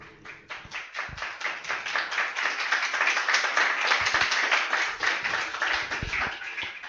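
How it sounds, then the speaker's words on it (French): Audience applause fills a concert hall during a summer 2017 performance, a dense, steady wash of many hands clapping that builds slightly and holds loud throughout, with a few sharper individual claps standing out. "Et oui, vous entendez des applaudissements."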